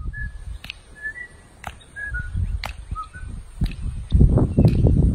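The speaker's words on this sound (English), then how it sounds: "marches and whistles in his backyard" A man marches through a backyard while whistling short, bright notes in a loose rhythm. Soft thumps punctuate the whistling, and a louder rustling, shuffling noise builds toward the end.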